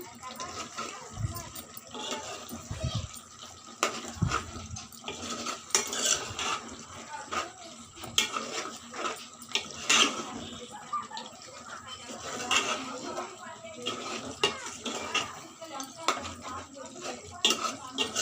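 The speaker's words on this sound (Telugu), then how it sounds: "కారం వేసుకున్న తర్వాత బాగా కలిపేసుకోవాలండి కారం వేసుకొని" A spoon scrapes and clatters against a metal pot while chilli powder is stirred into chicken curry, irregular close knocks and scrapes with someone talking over them throughout.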